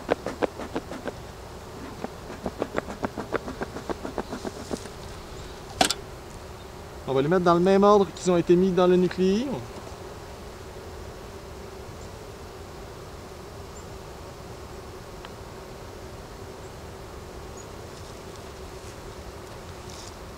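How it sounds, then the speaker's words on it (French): Honey bees buzzing around an open hive, a faint steady hum beneath someone speaking at length, with several clicks and taps early on. "Alors, j'ai quand même énormément d'abeilles."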